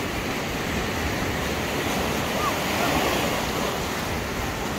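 Rough sea surf rolling onto Saidia beach in Morocco after floods, a constant broadband roar of breaking waves with wind buffeting the microphone and no clear speech.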